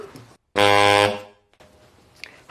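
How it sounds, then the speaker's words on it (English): Low saxophone note played with a loose embouchure, a single loud, buzzy, foghorn-like blast of about half a second that fades out, framed by quiet room tone. "if you just loosen off your embouchure going down the instrument, you might find it ends up sounding like a foghorn."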